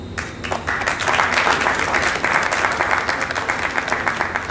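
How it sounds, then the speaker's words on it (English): Sustained audience applause at an international tourism film festival award ceremony in Bulgaria, a dense, steady wash of many clapping hands from a large crowd, loud and continuous throughout with no talk over it. "A round of applause, please."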